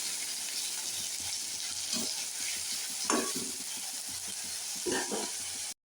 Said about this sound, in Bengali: এই যে বড়াগুলো ভাজলাম